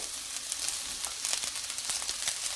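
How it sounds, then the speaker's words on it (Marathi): Rice tossed into vegetables frying on high flame in a hot pan for burnt garlic fried rice, with a steady bright sizzle and occasional crackles and stirring scrapes, close and alone. "आता ह्याच्यामध्ये मी आपला राईस ॲड करते।"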